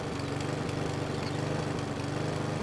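A child-driven lawn mower in the video game Who's Your Daddy 2 runs with a steady, buzzing engine drone that holds a constant chugging rhythm throughout, loud and close with no talking.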